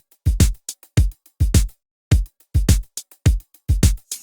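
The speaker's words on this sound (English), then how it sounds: "Next up we have I think it was some sort of hi-hat loop that I just cut up" A cut-up hi-hat loop in an electronic track sounds as chopped, punchy hits in an uneven stuttering rhythm, loud and clear with no voice.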